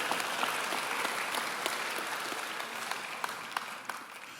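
Audience applause fills a varsity sports awards ceremony, a steady dense wash of many hands clapping with a few sharper individual claps standing out near the end.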